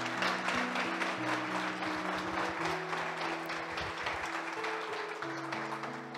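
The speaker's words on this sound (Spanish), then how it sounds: "Un aplauso, por favor." Audience applause on a television show, a continuous wash of clapping that carries on for several seconds under steady music.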